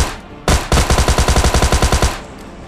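Automatic gunfire in PUBG Mobile Lite: a single loud shot, then a rapid burst of about fifteen evenly spaced rounds, close and punchy, with no talking over it.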